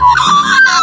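Magpies call close by in a short burst of harsh, nasal squawks, loud and unaccompanied by any talk.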